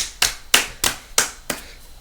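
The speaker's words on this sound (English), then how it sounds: "Another 3 second clap for that." Five sharp, evenly spaced hand claps ring out alone, close and crisp, each with a quick decay before the next.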